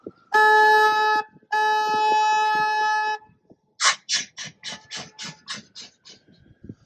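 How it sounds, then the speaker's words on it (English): A car horn gives two long, loud blasts, then a quick run of short toots that fade out. "please excuse me while I honk my horn."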